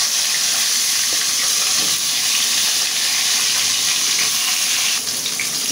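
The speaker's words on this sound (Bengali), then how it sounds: "এই তেলেই আমি বেগুন ভেজে নেব।" Eggplant fries in hot oil in the same pan just used for cooking river pangasius, giving a loud, dense, continuous sizzle that holds steady throughout, with no one talking.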